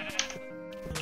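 A pink sheep in the Minecraft video game gives one clear wavering bleat, loud and close, with a tonal game-audio quality and no talk over it.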